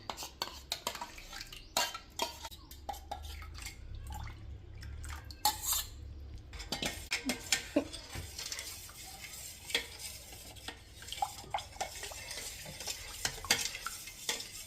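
Thick curd being beaten and stirred in a bowl for ragi ambali, with repeated scraping and clinking of a utensil against the vessel, close and fairly loud, no talk.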